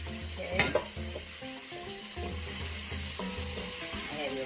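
Onions and garlic frying together in oil in a single pot, stirred: a steady close sizzle with a clank of utensil on pot early on, followed by rhythmic scraping strokes, with no voices.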